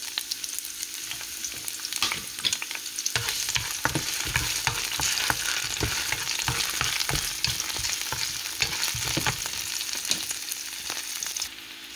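Garlic and onion fry in a pan with a steady close sizzle, broken by repeated scraping, tapping stirs and clatter, and no talking over them.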